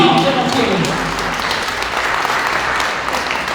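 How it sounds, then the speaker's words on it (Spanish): Applause from a church congregation during a Sunday sermon, a dense steady patter of many hands filling the room with no break, with voices mixed in underneath. "Ahora sí denle el aplauso al Señor"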